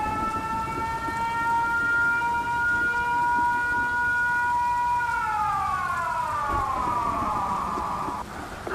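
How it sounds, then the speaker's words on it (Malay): An emergency siren wails loudly and continuously throughout a building during heavy rain, its steady tone gliding downward near the end over a constant broadband hiss of downpour. "Hujan turun dengan begitu lebat sehingga bunyinya hampir menenggelamkan siren kecemasan yang berbunyi di seluruh bangunan."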